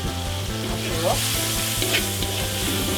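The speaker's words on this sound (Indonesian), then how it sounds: "Aduk." Tomato sambal fries and sizzles steadily in a pan while being stirred, a loud continuous crackle with a couple of brief scraping strokes and no talking.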